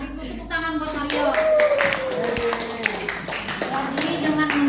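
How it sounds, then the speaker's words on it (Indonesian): A school class claps for a student named Mario, with bursts of hand claps over a busy room. Voices talk and call out over the clapping throughout. "Tepuk tangan buat Mario."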